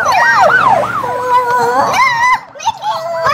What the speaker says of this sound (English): why is the ambulance here?